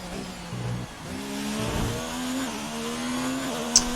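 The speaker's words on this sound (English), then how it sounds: "It sounds an awesome car." A Formula 1 race car engine in a racing video game at Monte Carlo whines steadily at high revs, its pitch rising and shifting through gear changes. It stays loud and continuous with no talk over it.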